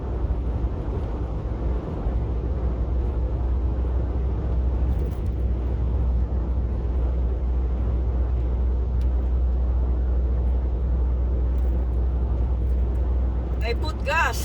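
A car cruises along a rural countryside road near Hardy Town and River Road, giving a steady, close engine and tyre rumble with wind buffeting that holds evenly throughout.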